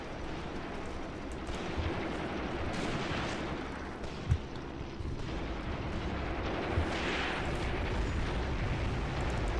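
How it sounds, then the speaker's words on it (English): Incendiary artillery shells bursting in the WWII strategy game Cross of Iron on the Mius Front, a steady rumbling wash of distant detonations with a few sharper blasts standing out, no talk. "They're using massive incendiary shots here."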